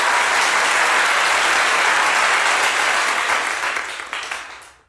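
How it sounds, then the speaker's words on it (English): Audience applause welcoming a speaker to a business talk on managing the next-generation workforce, dense and loud clapping that holds steady then thins out and fades. "I think that's the best round of applause I've ever had in my career"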